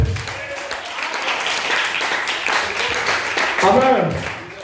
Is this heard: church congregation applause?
yes